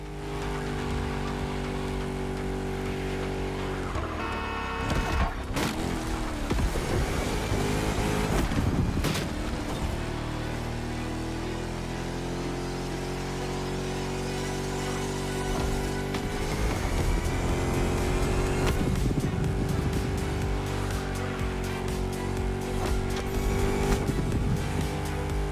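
A Chrysler SRT8 with a V8 Hemi racing in The Crew Motorfest, a loud continuous engine roar that climbs and drops through gear changes, with tire noise and brief bursts of impact over the long run.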